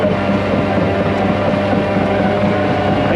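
A tractor with a tile plow runs with a loud, throaty exhaust note from its pipe, a deep steady rumble heard up close and alone with no talk over it.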